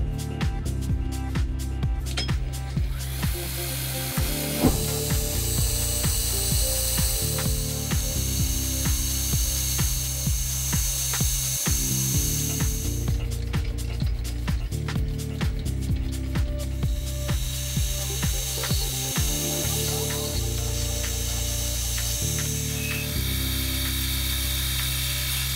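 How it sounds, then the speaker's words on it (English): A metal lathe turns the shank profile on a cutter blank of oil-hardening tool steel, a loud continuous mechanical drone with repeating rhythmic knocks and shifts in tone as the cut changes, no voices. "I'm turning the profile for the shank first"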